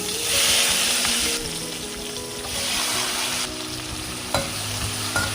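Small onions, garlic and brinjal fry in oil for vatha kuzhambu, a constant close sizzle that swells and eases as a spoon stirs, with a couple of sharp utensil knocks against the pan.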